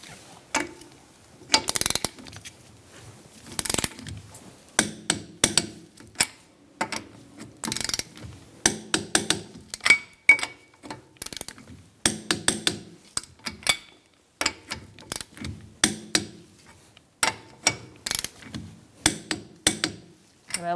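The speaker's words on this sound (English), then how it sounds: "we're going to torque our wheel to 80 foot-pounds. We're going to do that in a star-like pattern." A torque wrench ratchets as it tightens the wheel lug nuts on a 2002-2006 Honda CR-V in a star pattern, giving close, crisp repeated clicks in short runs with brief pauses between nuts.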